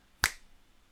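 A single crisp finger snap rings out close and clear, followed by quiet.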